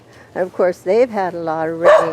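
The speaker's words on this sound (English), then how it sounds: "That's the neighbor's dog" A neighbor's dog barks beside a garden, several sharp, close barks and yips in quick succession lasting a couple of seconds, with a person talking over them.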